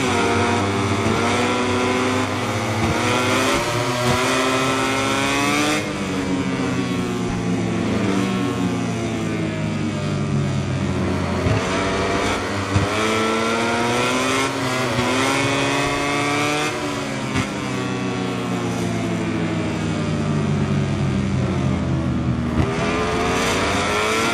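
Formula One race cars in an EA and Codemasters racing game roar continuously at high revs, engine pitch climbing and dropping through gear changes and passing cars, loud and close with no talking.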